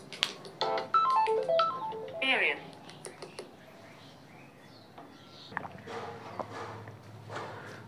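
Phone ringtone in a home study setting, a short rising run of bright electronic tones near the start, then fading into quiet room noise and faint shuffling.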